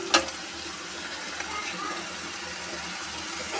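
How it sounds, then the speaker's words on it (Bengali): Onion, garlic and chili stir and sizzle in a pan over a low flame for mushroom curry, a steady close frying hiss with a brief clink near the start. "এই যে পেঁয়াজ, রসুন, লঙ্কা এইভাবে নাড়িয়ে যেতে হবে, একটু স্লো ফ্লেমে নিতে হবে"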